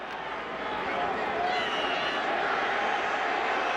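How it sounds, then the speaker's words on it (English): Large football stadium crowd at a Jaguars–Colts NFL game, a steady, dense roar of booing and displeased murmuring that holds loud and even for the whole stretch with no clear breaks. "This crowd still really unhappy."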